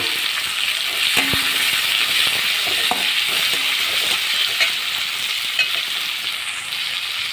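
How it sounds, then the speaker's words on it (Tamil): Chopped tomatoes sauté in a pan for an eggplant coconut-milk curry, hissing continuously while a spatula clicks and scrapes against the pan now and then. "தக்காளி கட் பண்ணி தக்காளி போட்டு நல்லா வதக்கலாம்"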